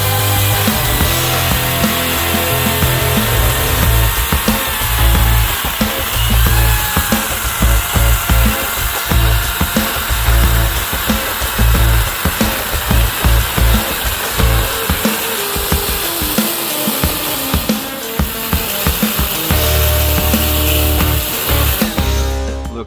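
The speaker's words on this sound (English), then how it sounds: "let's see if this saw can cut through an 18-inch log" A Makita 36V cordless chainsaw cuts steadily through an 18-inch log, a loud close motor whine with rapid rhythmic chain rasping that holds nearly unbroken for over twenty seconds before easing off at the end.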